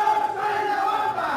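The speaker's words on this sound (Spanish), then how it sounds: "Incluso la gente aclama su nombre, lo pide, es amado por el público." Crowd at a lucha libre wrestling event in Guadalajara roars and chants a wrestler's name, a sustained tonal group shout heard close and loud throughout.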